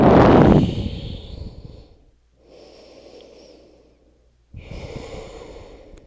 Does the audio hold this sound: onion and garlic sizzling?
no